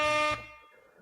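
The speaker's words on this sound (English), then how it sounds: "Getting the air horn sound." A short, loud blast of an air horn cuts off abruptly, leaving a faint fading tail.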